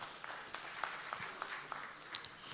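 Faint applause from a conference audience at a public wealth management event, a soft patter of clapping that rises a little in places with no talking over it.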